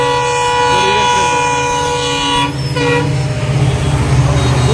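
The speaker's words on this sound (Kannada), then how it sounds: "ಈ ಇದೇ ಒಂದು ಟ್ರೈನ್ ಹೋಯ್ತು" A train rumbles past close by, loud and continuous, with a long sustained horn tone over the clatter of the wagons.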